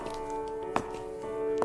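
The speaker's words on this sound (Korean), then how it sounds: "우리들의 발소리만 울려 퍼지는 터널." Footsteps echo through a tunnel, two slow, hollow thuds landing about a second apart over a steady droning musical bed.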